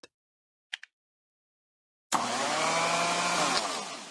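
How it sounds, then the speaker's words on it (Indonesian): A few brief clicks, then a loud continuous mechanical whir of a sanding tool on a police car body in a video game starts abruptly and runs steadily for about two seconds, slightly synthetic in tone. "Sekarang amplas tempat yang rusak dengan alat amplas."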